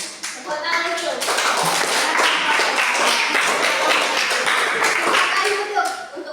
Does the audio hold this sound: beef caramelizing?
no